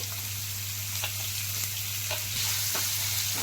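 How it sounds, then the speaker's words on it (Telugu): Chopped onions and green chillies fry in a pan with a pinch of asafoetida for a ridge gourd curry, giving a steady close sizzle with a few soft stirring knocks and no talking. "ఈ ఉల్లిపాయ ముక్కలు బ్రౌన్ కలర్ వచ్చే వరకు వేయించుకోవాలి"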